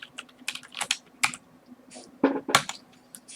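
Quick irregular bursts of keystrokes on a computer keyboard, close and clear, with a faint steady hum underneath and no talking.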